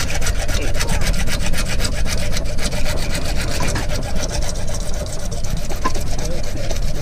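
Steady back-and-forth strokes of a hand saw cutting through wood, rasping and rhythmic, close by and continuous throughout.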